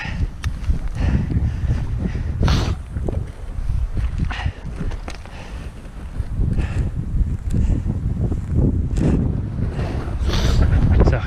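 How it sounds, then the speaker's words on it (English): Strong, gusty wind roaring across the microphone throughout on a trail up Mount Olympus, loud and unbroken, with occasional faint voices beneath it. "It's just it gets so windy up here."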